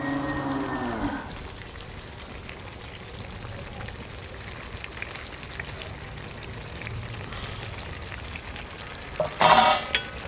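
Chicken sizzles steadily in a pan for a mango, coriander and mustard curry after pureed mango goes in, a soft continuous frying crackle with a brief low moo at the start and a stirring clatter near the end.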